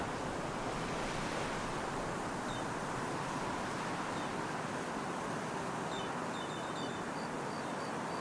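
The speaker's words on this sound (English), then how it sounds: "Somewhere where the waves aren't so loud." Ocean waves in the fantasy video game Enderal make a constant loud roar of surf and rushing wind across the whole stretch, with faint high chirps near the end and no voices.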